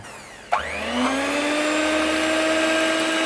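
An electric hand mixer switches on with a click and settles into a loud, steady whirring whine, running close by as it whisks batter.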